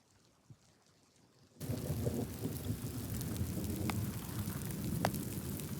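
Thunderstorm in the countryside outside Corson, South Dakota: after a brief quiet moment, steady heavy rain comes in with a dense low rumble of thunder underneath and a couple of sharp crackles, close and continuous.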